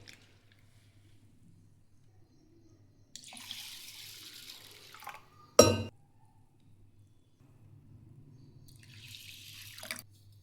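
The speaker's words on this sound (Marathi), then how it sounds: "डाळ पण 2-3 पाण्याने धुवून घ्यायचे." Urad dal is rinsed under a running tap in two bursts of splashing water, separated by a sharp clink of a utensil, with quiet pauses between.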